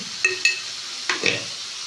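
Shrimp curry spice paste of onion and tomato being sautéed in a pan: a few sharp spoon scrapes and clinks against the metal over a soft sizzle, close and clear with no talking.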